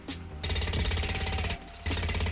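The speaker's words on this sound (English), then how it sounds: "It's a jackhammer." A jackhammer at a construction site pounds in steady rapid bursts, loud and continuous with one short pause midway, no voices over it.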